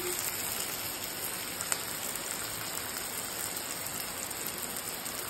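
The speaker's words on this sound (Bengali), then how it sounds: "দেখেছি একটু বৃষ্টি হচ্ছে বাইরে, প্রচণ্ড বৃষ্টি হচ্ছে" Heavy rain pours steadily outside, a dense, even hiss that fills the whole stretch with only one brief tap standing out and no voices.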